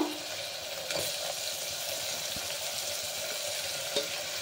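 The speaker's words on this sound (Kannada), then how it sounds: "ಇದು ಸ್ವಲ್ಪ ಎಣ್ಣೆಯಲ್ಲಿ ಫ್ರೈ ಮಾಡ್ತೀನಿ ಒಟ್ಟಿಗೆ" Raw vegetables frying in oil for a vegetable kurma, giving a continuous close hiss of sizzling with a couple of faint clicks of stirring, fairly quiet and without speech.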